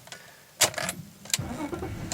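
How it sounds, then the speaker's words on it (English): A car engine is cranked and catches, with a couple of short starter bursts followed by a low idle at close range, plus small clicks like keys. "So we're just starting the engine there."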